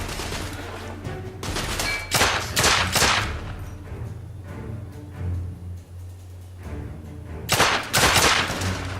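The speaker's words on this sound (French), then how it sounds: "J'essuie des tirs de suppression!" Gunfire in the video game The Order 1886 crackles in sharp bursts and volleys, loud and close, with gaps of quieter ambience between exchanges.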